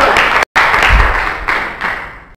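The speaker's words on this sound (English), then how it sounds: "I'm glad you clapped" A church congregation at a worship service claps loudly together, a dense, continuous wash of applause that breaks off for an instant, then resumes and fades out.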